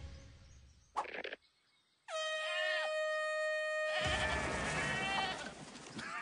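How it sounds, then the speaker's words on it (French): Cartoon goats bleat with a loud, horn-like call that blares steadily for about two seconds, joined by a second, rougher burst of bleating and noise; a short blast comes earlier. "méfiez-vous des chèvres volantes cracheuses de feu"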